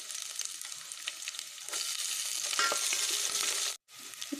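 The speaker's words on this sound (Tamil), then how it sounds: "இப்போ பூண்டு ஃப்ரை ஆகிடுச்சு." Garlic frying in a pan for star gooseberry rice, a steady close sizzle with occasional stirring scrapes, moderately loud, briefly cutting out near the end, no talking.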